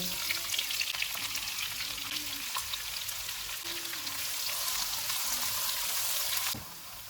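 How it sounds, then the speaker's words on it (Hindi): Onions sizzle and crackle steadily in hot oil in a pan, a dense close frying hiss with occasional soft stirring scrapes, no voices. "2 प्याज डालेंगे, इनको लाइट गोल्डन फ्राई करेंगे।"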